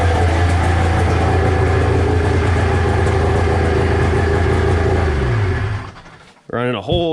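A 1993 Thundercat 900 engine runs loud and steady up close with a constant droning hum, then winds down and cuts off near the end before a voice speaks.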